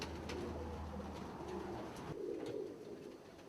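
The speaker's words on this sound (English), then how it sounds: "This is another white-headed archangel here." White-headed archangel pigeons coo in a loft, a steady low murmur of overlapping coos sustained throughout at moderate, close range.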